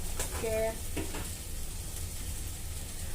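Turmeric and chili powder go into a hot pan of oil for a tuna curry, giving a steady close sizzle while being stirred, with a brief clink near the start.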